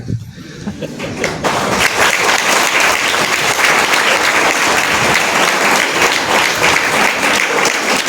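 A large audience claps steadily at a legal awareness seminar, a dense, loud wash of applause that swells in after a quiet second and keeps going without pause, with no one speaking over it.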